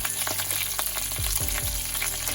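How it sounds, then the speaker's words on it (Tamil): Mustard seeds sizzle and crackle in hot oil as a tempering for tomato kuzhambu, a steady close hiss with scattered sharp pops and a few low thumps throughout. "எண்ணெயை விட்டு கடுகு சேர்த்துருக்கிறேன்"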